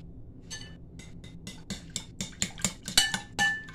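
A fork or spoon clinking against a bowl while egg and spinach are mixed, with rapid, irregular metallic taps that grow louder and busier, close and without talk.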